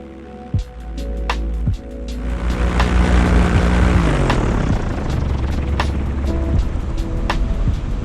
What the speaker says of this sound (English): I do a turn in this field on the left and then come in for a landing